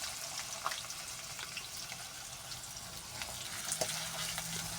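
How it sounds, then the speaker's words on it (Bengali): Cinnamon, cardamom, cumin and bay leaves fry in oil in a pan, a soft, faint sizzle with a few light stirring scrapes and clicks, no voices. "দারচিনি, এলাচ, জিরা, তেজপাতা দিয়ে একটু ভেজে নেব"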